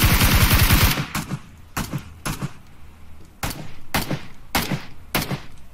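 Gunfire in the battle royale game PUBG Lite: a loud sustained burst opens, then a series of single sharp shots ring out at irregular intervals over a quiet background, with no talking.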